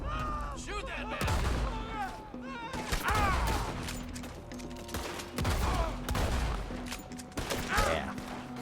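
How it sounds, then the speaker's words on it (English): Gunfire in the Western video game Red Dead Redemption 2, several sharp shots and bursts over a steady game soundtrack, loud and close, with a person talking between the shots. "Shoot that man."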